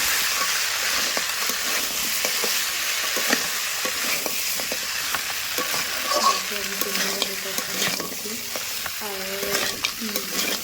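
A spatula scrapes and stirs through crab curry with cauliflower frying in a pan, steady sizzling with repeated close scraping strokes throughout, no talking.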